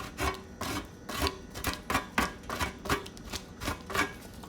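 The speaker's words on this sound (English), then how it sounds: "And I think I'm gonna use a big grater" A big grater rasps across a block of Parmesan cheese in a kitchen, close and fairly loud, with about a dozen rhythmic back-and-forth strokes spaced roughly every third of a second.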